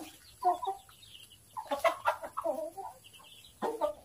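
Hens and ducks called in on a rural Thai smallholding, with chickens clucking in short irregular bursts close by, quiet pauses between calls.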